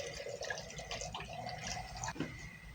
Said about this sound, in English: Add distilled water,